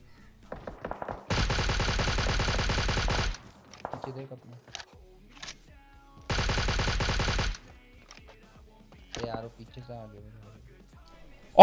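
Two long bursts of rapid automatic gunfire from PUBG Mobile, each lasting a second or two, with people talking in between and afterward.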